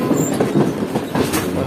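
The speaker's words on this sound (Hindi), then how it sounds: "हमारी ट्रेन इस वक्त बढ़ रही है मेन लाइन 1 पर" The Karakoram Express passenger train rolls along the main line, a loud, steady rumble with rhythmic clickety-clack of wheels over rail joints, heard close from on board.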